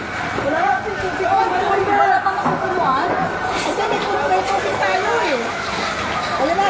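A wailing fire truck siren rises and falls amid a noisy crowd at an apartment fire in Tondo, Manila, with people chattering and calling out close by throughout.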